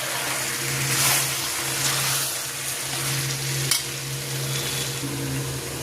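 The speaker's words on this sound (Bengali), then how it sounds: "তো দেখো বন্ধুরা, চিকেনটা কষতে দিয়ে দিচ্ছি।" Chicken pieces fry hard in hot oil with cooked-down spices, a dense, continuous sizzle with occasional stirring scrapes and one brief clack of a utensil.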